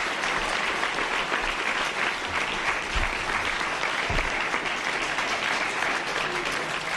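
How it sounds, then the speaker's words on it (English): Audience applause for David Simon at a National Press Club event, a steady, dense wash of many hands clapping that holds at an even level for the whole stretch, with no voices on top. "let's offer a great round of applause to David Simon"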